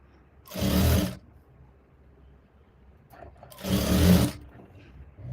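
A sewing machine stitches a double seam on a blouse shoulder in two short bursts, each lasting about a second with a pause between, close and fairly quiet with faint background noise.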